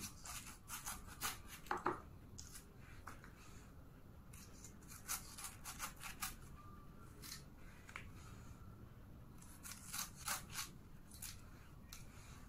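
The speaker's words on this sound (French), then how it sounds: "Vous allez donc prendre votre ananas que vous allez éplucher." A knife peels a whole pineapple in a run of close, uneven scraping and cutting strokes, some sharper than others, with no talking.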